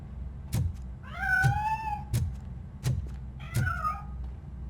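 A cat meows inside a piano in the video game RoboCop: Rogue City, two clear rising-falling meows among several sharp knocking thumps, fairly close with no talk.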